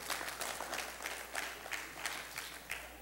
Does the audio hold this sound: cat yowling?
no